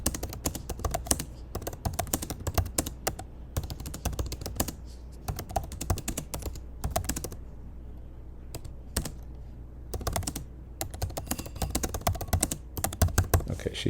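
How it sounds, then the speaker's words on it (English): Two people type at once on computer keyboards, producing dense, overlapping clusters of near, crisp key clicks in an uneven rhythm across the whole stretch, with brief pauses and no talk. "let's see if we can type simultaneously"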